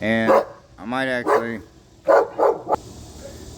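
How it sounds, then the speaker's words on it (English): A dog barks a few times nearby in a home garage setting, loud harmonic woofs in short bursts, while someone talks over and between them. "sorry about the dog interruption"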